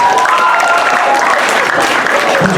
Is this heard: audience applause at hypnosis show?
yes